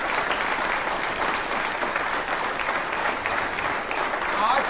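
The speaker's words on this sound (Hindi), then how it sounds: "तो एक बार आप अपने लिए तालियां बजाइए" A quiz show audience of lawyers and advocates breaks into steady, dense applause that stays even and fairly loud throughout, with no speech over it.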